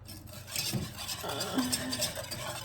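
A whisk stirring a milk and vanilla baking mixture in a bowl, soft scraping and swishing, fairly quiet and steady over a couple of seconds.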